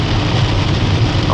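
Heavy rain drums steadily on a moving car in bad weather, a dense unbroken hiss with low road rumble underneath, close and loud throughout with no talk.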